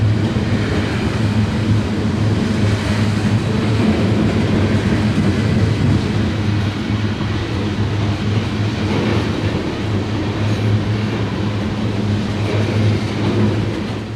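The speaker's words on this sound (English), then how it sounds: "Although I didn't catch the symbol on this train either, the eastbound loads are probably heading for export to Europe via Newark or Philadelphia" A Norfolk Southern eastbound freight train rolls past on the Pittsburgh line, a steady loud rumble of wheels and cars with a constant low drone throughout, no voices.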